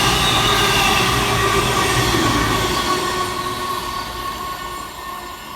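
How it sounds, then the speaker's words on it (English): A CrossCountry Class 221 train, unit 221138, runs fast through a station, a loud, close rush of wheels and engine with tonal whine that slowly fades as it passes. "Fast through the middle for cross country is 221138"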